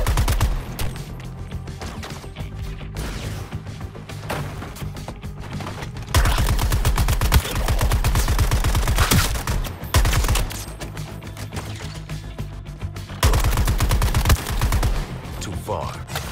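Rapid gunfire bursts from shooting in the video game Suicide Squad: Kill the Justice League on Xbox Series X, loud repeated volleys in several stretches over a steady game soundscape, with someone talking throughout.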